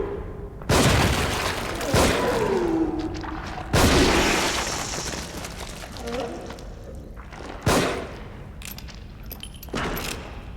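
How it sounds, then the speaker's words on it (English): Explosions in The Evil Within video game, set in twisted catacombs, go off as several loud booming blasts spread across the span, each followed by a decaying rumble and scattered debris sounds. "You must have been further away from the explosion."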